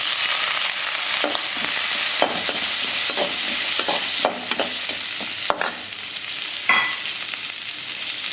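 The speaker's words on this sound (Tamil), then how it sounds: "இஞ்சி வதங்கும்போதே தேங்காய் சேர்த்துருவோம்" Ginger and grated coconut sautéing in a pan for a chutney, a continuous close sizzle broken by repeated scraping stirs and occasional spoon clinks, no talk.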